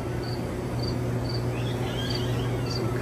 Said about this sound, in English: Some crickets happening.